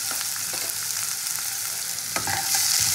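Chopped onion and spices frying in a pan for masala rice with winter vegetables, a close steady sizzle with rhythmic spatula scrapes and clicks, swelling louder near the end; no speech.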